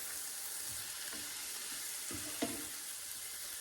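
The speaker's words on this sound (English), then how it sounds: "roast beef in there. And all my garlic did not come out." Roast beef with garlic and smoked paprika sizzles steadily in a pan, a soft continuous frying hiss broken by a few brief stirring scrapes.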